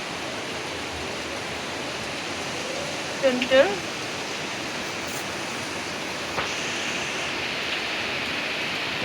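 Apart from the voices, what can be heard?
heavy rain falling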